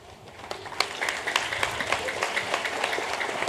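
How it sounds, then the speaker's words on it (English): Applause from an audience at a school investiture ceremony at St. Jude's Public School, a dense steady clapping that swells after the first second and continues evenly, fairly close and without voices on top. "with a round of applause."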